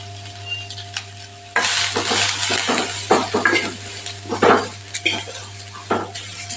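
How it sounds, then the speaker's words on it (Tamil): Onions and green chillies sautéing in a pan with a small ladle of oil, close and sizzling. A spoon scrapes and stirs with repeated sharp clinks against the pan over a steady electrical hum. "வெங்காயம் இதுக்கெல்லாம் பொன்னிறமாக வதக்கணும்"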